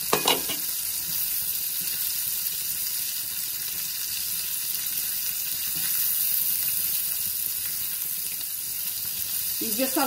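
Onion sautéing in a frying pan gives a steady, close hiss and crackle of frying that holds level throughout, with no voices over it.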